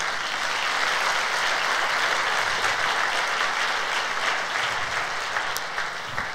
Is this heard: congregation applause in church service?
yes